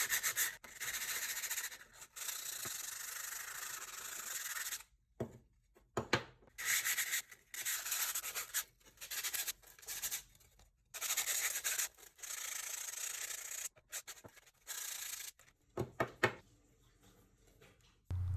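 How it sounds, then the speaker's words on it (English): Parts of an old, ruined accordion are being hand-sanded in close, raspy scrubbing strokes. Long runs of steady rubbing are broken by short pauses and quick back-and-forth bursts, with no talking. "here's a little sanding montage"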